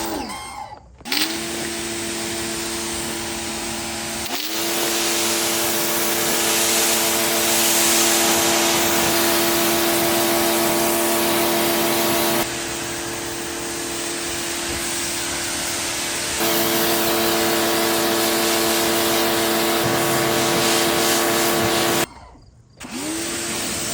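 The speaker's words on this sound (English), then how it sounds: "I'm gonna switch over to the motorcycle attachment, which is a little more abrasive than the bicycle attachment. And we're gonna spray all this off." A pressure washer with a motorcycle attachment roars continuously under a steady motor hum, its spray hissing loudly against a motorcycle and shifting in tone as the jet moves, with brief cut-offs near the start and end.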